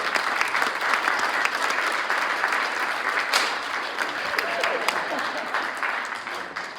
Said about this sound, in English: So let's give everyone in the room an applause for all that you did.